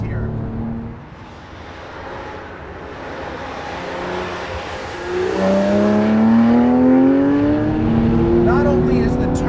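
Porsche 997 GT3 RS 4.0 engine heard from inside while cornering, a loud steady drone that climbs in pitch as the car accelerates out of a turn, under a voice talking.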